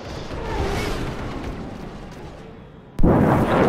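Explosions in the space combat game Star Citizen during a co-op Vanduul Swarm match: a sustained rumbling blast fades, then a sudden loud boom hits near the end and keeps roaring.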